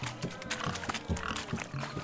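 Pigs grunt and oink in short, repeated snorts during a painted-pig-catching contest at a wedding party in The Witcher 3: Wild Hunt – Hearts of Stone, close and steady throughout.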